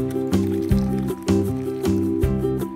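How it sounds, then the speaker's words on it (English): Milk is poured into a beaten egg mixture while it is whisked rapidly, giving a steady liquid slosh with rhythmic stirring strokes about twice a second, close and moderately loud over background music. "pour this milk into the egg mixture, stirring rapidly so that the eggs do not get cooked"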